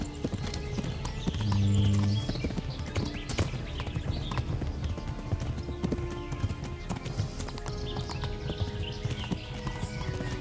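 Horse hooves clip-clop steadily in a video game, a continuous rhythmic trot close by with a brief low tone early on and no talking.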